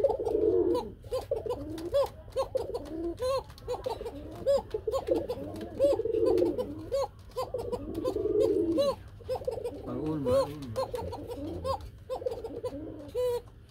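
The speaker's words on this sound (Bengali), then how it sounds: "আপনাদের শুধু কুকার ডাকটা শুনাইলাম" Pairs of running pigeons coo continuously at close range, a steady throaty warbling that repeats in rolling phrases with a low hum underneath and no talking.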